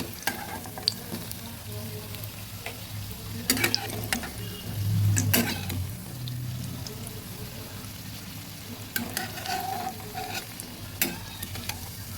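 Banana flower pakoras sizzle steadily in hot deep-frying oil, with a utensil scraping and clinking against the pan now and then, all close and fairly even.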